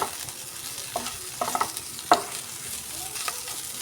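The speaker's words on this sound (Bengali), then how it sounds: "আবারও খুব ভালো করে নেড়ে চড়ে আলুটার সঙ্গে ডিমটা মিশিয়ে নেব দিয়ে খুব ভালো করে ভেজে নেব" Egg being stirred into potatoes as they fry in a pan: a quiet, steady sizzle broken by several sharp scrapes and clatters of a utensil against the pan, with no talking.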